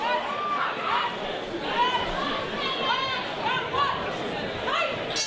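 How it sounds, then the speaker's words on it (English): A lively crowd roars steadily at a Warriors Cup 71 Muay Thai fight, a continuous wash of cheering and chatter beneath a commentator's voice. "Crowd really into this one. Both these fighters bringing the noise with them."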